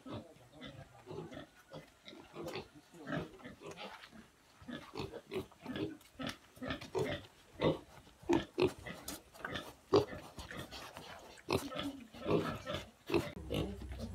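Pigs at a pig farm in eastern Nepal grunt and oink in a busy, uneven stream of close, overlapping calls across the whole stretch, with people talking now and then.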